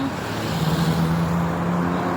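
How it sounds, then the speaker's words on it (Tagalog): Cars passing on a busy street in Malaysia, a steady, continuous rumble of traffic close by with a low engine drone and no break between vehicles. "Madami kasi yung sasakyan."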